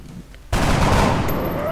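Gunfire in X-COM: Enemy Within bursts in abruptly and holds as a loud, dense volley of shots firing upward.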